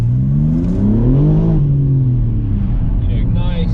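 A BMW G81 M3 Touring in Sport Plus with a Remus OPF-back exhaust revs up from inside the cabin, engine note rising and falling in a steady sweep, loud and continuous throughout.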